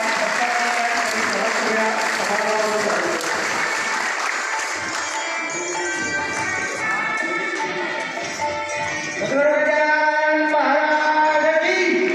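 Audience applause at a felicitation during a principal's retirement ceremony, as women teachers are honoured with saris, a steady dense clapping through the whole stretch, rising louder near the end, with voices mixed in beneath.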